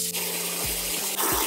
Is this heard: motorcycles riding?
no